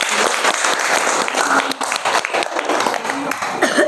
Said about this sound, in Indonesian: Ayo kita beri tepuk tangan untuk kelompok